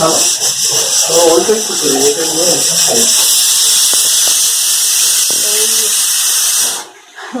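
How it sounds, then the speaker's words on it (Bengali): A steady, loud steam hiss from a pressure cooker fills the clip, with voices talking over it, then drops away abruptly near the end. "প্রেশার কুকারে রান্না হচ্ছে এখন।"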